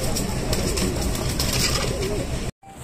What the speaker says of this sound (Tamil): இது புறா